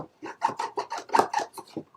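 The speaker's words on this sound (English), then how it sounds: "go in with my bone folder and give that a good rub on the back" A bone folder is rubbed firmly back and forth across the back of a glued paper card, giving a close, rhythmic rasping scrape of about eight quick strokes with no talk.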